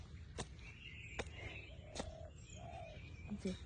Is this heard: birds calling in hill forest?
yes